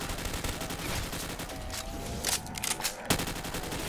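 Rapid bursts of video game gunfire from three-round burst weapons in a Call of Duty zombies match, loud clustered shots repeating back to back with brief gaps and some faint talk underneath.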